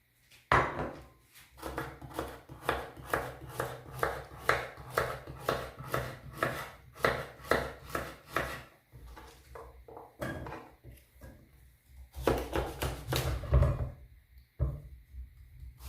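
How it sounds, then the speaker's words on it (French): A knife cuts pumpkin into small pieces on a board with a fast, regular run of close, sharp chops. The chopping pauses briefly and then resumes in a quicker burst. "je prends la citrouille. Je vais la couper en petits morceaux"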